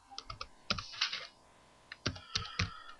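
Bursts of typing on a computer keyboard, quick clusters of key clicks with a pause in the middle, close and fairly quiet, no voices.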